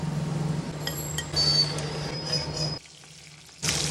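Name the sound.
halved potatoes frying in hot white oil in a wok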